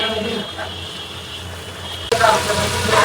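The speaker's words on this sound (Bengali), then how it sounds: "এখন ভালো করে মশলাটা কষাবো সুন্দর করে" Spice masala sautéing in a pan for a Bengali dish of hilsa fish with pointed gourd and Malabar spinach, a steady close sizzle that grows louder and brighter partway through as the paste is stirred.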